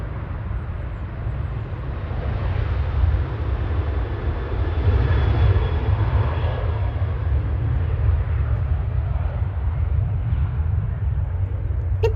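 A Virgin airliner at Manchester Airport gives off a loud, sustained jet engine roar, swelling slightly partway through and staying strong to the end, with no voices.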